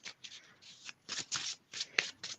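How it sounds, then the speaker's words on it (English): A tarot card deck being shuffled, several quick riffling bursts in close succession, heard alone and fairly quiet. "Hold on, let me shuffle."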